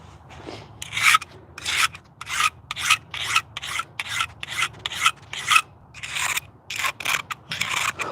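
A chainsaw blade sharpener files repeatedly in a steady back-and-forth rhythm, each rasping stroke loud and close, with a low hum underneath and no talk.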